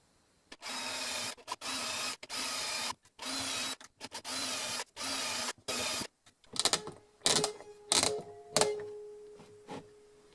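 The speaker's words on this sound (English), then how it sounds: "I want to drill pilot holes first" Rapid bursts of mechanical whirring from a hand drill boring into wood, repeated in short pulses, then a few sharper clicks and creaks.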